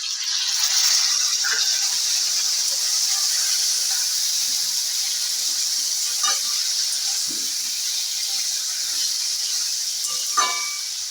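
Water goes into a pan of fried potatoes and sets off a steady, bright sizzle and hiss that lasts throughout. A few faint clinks and stirring sounds come through it.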